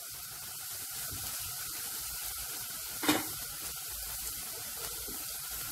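Garlic frying over high heat in a pan while making Schezwan fried rice, a constant close hissing sizzle with one brief louder clatter partway through.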